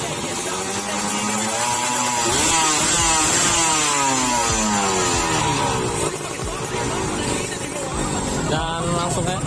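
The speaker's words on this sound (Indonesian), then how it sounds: "Oke, kira-kira gitu ya teman-teman hasil super kit yang lagi diaktifin." A Kawasaki Ninja SSR motorcycle fitted with a Crimpie exhaust and its super kit switched on revs repeatedly, rising and falling in loud, close, rasping sweeps for the whole stretch, with no talk over it.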